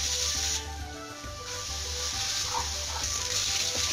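Onion goes into hot oil with garlic in a pan and fries with a steady, close hiss that shifts and swells slightly as the pieces settle, without any talking.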